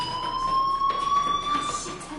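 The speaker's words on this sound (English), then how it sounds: "do you hear that fire alarm?" A fire alarm sounding in the Life Is Strange video game, a steady electronic tone with a slightly rising pitch and bright overtones, continuous and fairly loud across the whole stretch.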